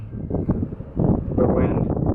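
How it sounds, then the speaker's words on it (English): Wind gusts roar against the microphone on an amusement park ride at Himeji Central Park, a loud steady rumble that swells stronger partway through, with a voice speaking over it. "The wind."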